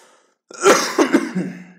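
A single harsh cough up close, breaking into a few rough bursts after a brief silence.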